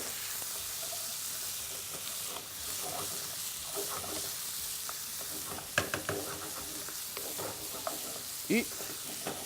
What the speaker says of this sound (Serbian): Sve se lepo promeša.